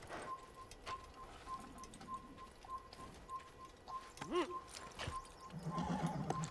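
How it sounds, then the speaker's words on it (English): A horse in the Assassin's Creed game on PS3 whinnies once in a rising, wavering call, with scattered hoof clops, bird calls and a steady background tone around it. "I just need to get on my horse."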